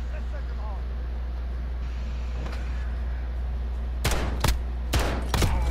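Gunfire from a video game gunfight match, with several sharp, loud bursts of shots clustered near the end over a steady low background hum.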